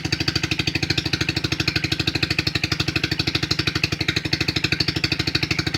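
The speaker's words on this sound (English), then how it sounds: "we'll give it a couple good revs and let you guys hear it." A 2008 High-Bird 200cc engine runs after a cold start with a fast, even thumping beat, steady and close up, with no clear rise in revs.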